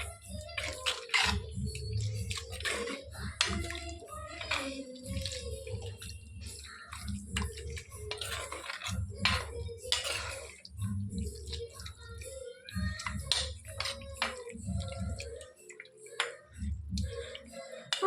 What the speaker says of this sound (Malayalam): ഇതിലേക്ക് ബീഫ് നമുക്ക് അതിൽ ഇളക്കിക്കൊണ്ട്